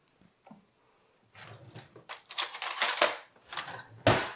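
A spoon is fetched from a kitchen cutlery drawer, starting with a soft thud and then a run of close metallic clatters and jangling that ends in one sharp clink, with no talking.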